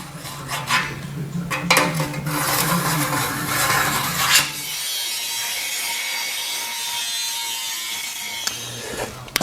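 A hand saw cuts off a piece of a custom fender flare for a 1959 Renault, giving loud, steady rasping strokes that give way to a continuous grinding hiss.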